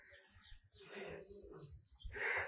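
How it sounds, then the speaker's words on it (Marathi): Morning birds and chickens calling outside near the Ram Mandir at Ramnath, Alibag: faint, distant chirps and coos scattered across a short stretch, with a brighter call rising at the end and a murmur of low background noise. "गुड मॉर्निंग झाली की कोंबड्या पिल्ल पक्षी सगळ्यांची ओरडायची सुरुवात होते"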